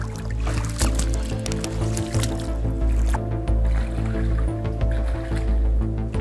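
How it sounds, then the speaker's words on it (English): Boots wade through swamp water near a forest camp, with steady sloshing and squelching close by under a continuous low rumbling background, no talk. "Into the swamp we go."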